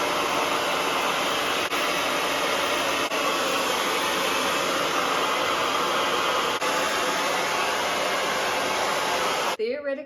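A hair dryer fitted with a diffuser attachment blows in a steady, loud, close whoosh for nearly the whole stretch, cutting off abruptly right at the end.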